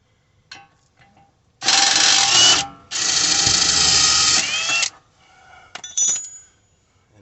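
An impact or power wrench spinning bolts off the rear upper control arm of a 2012 Lincoln MKZ, two loud sustained whirring bursts close by, with small clinks and rattles of tools before and after.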